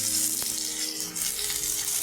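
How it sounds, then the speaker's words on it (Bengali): Boiled potatoes frying in hot oil in a pan give a steady, close sizzle with crackling and a brief stir clatter partway through, no voices. "কাঁচা কলার সাথে আমি আলুও সিদ্ধ করে নিয়েছিলাম, ওই আলুগুলি ভেজে নিই।"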